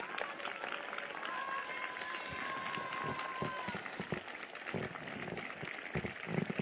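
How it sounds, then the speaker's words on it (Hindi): A church congregation at a prayer meeting claps together in a steady, sustained patter that sounds fairly distant and diffuse, with a few sharper claps standing out. "बजाओ ताली।"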